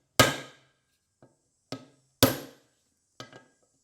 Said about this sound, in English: get a socket to fit right up over the top of it, and just pop it right in place.